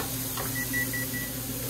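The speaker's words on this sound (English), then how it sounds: "set this timer for about a minute" Short electronic kitchen timer beeps while the timer is being set during a home cooking session, a few brief evenly spaced tones over low steady background hum.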